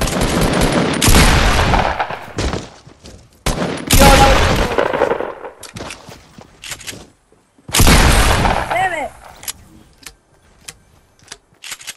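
Fortnite gunfire comes in three loud, close volleys of rapid shots, each lasting one to two seconds, with quiet gaps between them.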